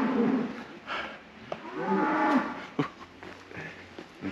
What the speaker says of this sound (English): These cows are going crazy.